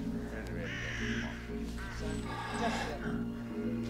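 A crow caws in a Harry Potter film, with harsh repeated caws heard under and between people talking over it.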